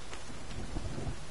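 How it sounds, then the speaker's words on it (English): Steady rain with low rumbling thunder in the forest of a survival video game, a dense, continuous wash of noise with deep rolling booms underneath and no talking. "It's raining!"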